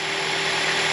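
A Toyota Celica engine runs steadily with a loud, continuous broadband roar and a constant low hum, with no pauses over the full second and no voices.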